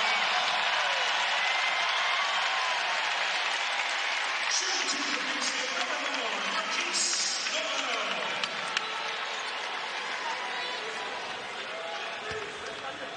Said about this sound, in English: How about this crowd?